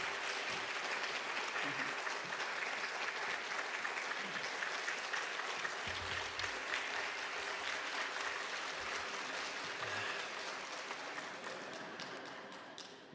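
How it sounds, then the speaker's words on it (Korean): Sustained applause from a church congregation at a Sunday afternoon service, steady dense clapping filling the whole stretch with faint voices mixed in underneath. "나오실 때 여러분 뜨거운 박수로 맞이해 주시고"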